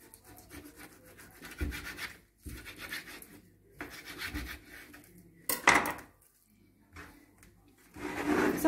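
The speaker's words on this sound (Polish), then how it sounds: "Czynnością, jaką wykonam, będzie pokrojenie mięsa na mniejsze kawałki" Smoked bacon and podwawelska sausage are sliced into small pieces with a knife for bigos, heard as repeated rubbing, sawing strokes in bursts, close and fairly quiet, with a sharper clatter partway through.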